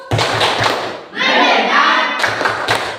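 A classroom of students claps out a quick rhythmic pattern of sharp, hollow thuds, pauses while the group chants together in unison, then resumes the patterned clapping, all loud and close.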